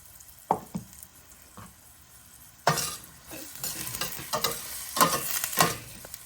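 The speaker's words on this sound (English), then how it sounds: "I'm going to add a little bit of salt to help sweat down those peppers" Sliced peppers sweat in a hot pan with a little salt, a few stirring taps giving way to a steady sizzle as the spoon scrapes and moves them around.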